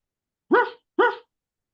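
A person imitates a dog with two short, loud barks in quick succession, close to the microphone, with silence before and after.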